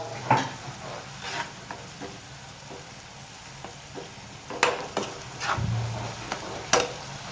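Onion and spinach roast in a pan, with a low steady sizzle broken by scattered spatula scrapes and knocks against the pan, some sharper clacks toward the end.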